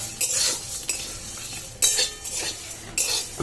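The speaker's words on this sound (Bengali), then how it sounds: "এটা একটু শুকনো খোলায় ভালো করে ভেজে নেব।" Whole spices and dried chillies dry-roasted in a pan over low heat, a spatula scraping and stirring in three rough bursts with light rattling of the spices, close and without talk.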